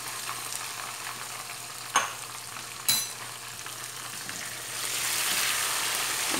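Tomatoes and green chillies frying in a pan for potato chickpea curry, a steady sizzle broken by two sharp utensil scrapes and swelling louder toward the end, close and without voices.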